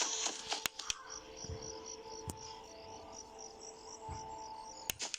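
Crickets chirp in the video game Five Nights at Freddy's 4 in a steady pulsing rhythm over a faint ambient hum, with a few sharp clicks scattered throughout.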